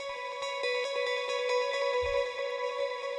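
Guitar with a dotted-eighth ping-pong delay at 50% mix, playing sustained tones whose echoes repeat steadily in a dense layered texture, moderately loud with no talking.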